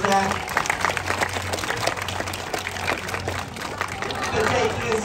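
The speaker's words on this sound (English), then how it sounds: "Let's give Ruby and Lo a nice big round of applause there." Audience applause at a sea lion demonstration at Blackpool Zoo, outdoor crowd clapping in a scattered, lively way, mixed with chatter and background babble.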